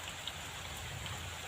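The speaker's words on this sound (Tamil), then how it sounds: "மழை வந்துருச்சு." Rain falls on a hillside as a faint, even hiss of patter that stays steady throughout with no voices.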